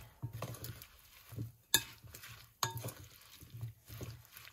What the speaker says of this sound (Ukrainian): а тепер мішаю ложкою.